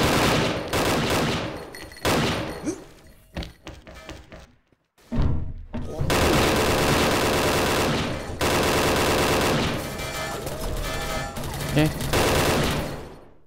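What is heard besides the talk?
rifle gunfire from Golden AUG in video game XSHOT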